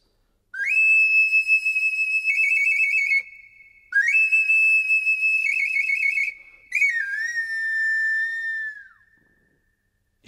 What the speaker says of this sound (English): the flower flute. This little flute was used by the Aztecs